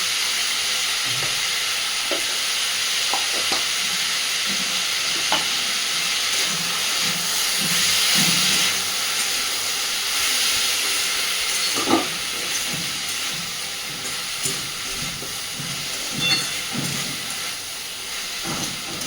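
Mussels (mitulir chorchori) fry in a pan over a medium gas flame after turmeric powder is added, a steady broad sizzle and hiss throughout with scattered soft clinks and scraping, close and continuous.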